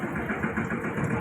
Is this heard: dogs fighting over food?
no